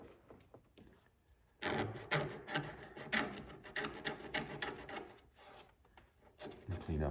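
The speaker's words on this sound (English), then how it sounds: "just kind of cleaned up with my fingernails so I don't put any scratches in it" Fingernails scraping leftover weatherstrip residue off a 1968 Corvette door, a dry, steady rasping rub that runs close and continuous, growing louder partway through, with no talking.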